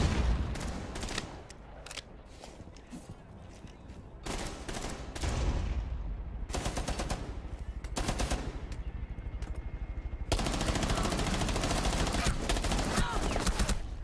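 Automatic gunfire in the video game Rainbow Six Siege, rapid bursts of rattling shots in long and short volleys separated by brief pauses, loud and close, with a voice speaking faintly in places.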